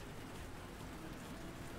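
Heavy rain falls in a racing video game on the Dana's Valley map, a steady, dense hiss that runs unbroken throughout with no talking.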